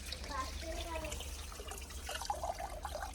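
Water runs from a household tap in a soft, steady trickle, close but faint, while voices talk over it.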